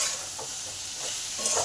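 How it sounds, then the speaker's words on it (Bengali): Salt being stirred into potatoes, stalks and onions in a pan, with a low frying sizzle and a few soft scraping stirs at a slow rhythm, close and quiet, with no talking. "নুনটাও ভালো করে মিশিয়ে নিলাম"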